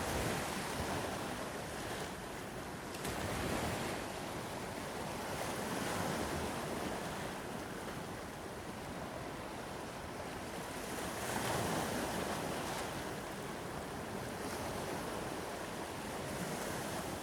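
Pacific Ocean waves roll and wash steadily under gusting wind, a broad continuous roar with slow surges of surf and some wind buffeting on the microphone, with no voices.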